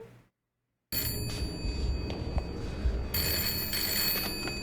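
A telephone bell rings continuously in a Doctor Who episode scene, loud and steady after a brief silent gap, the ringing tone running without pause to the end.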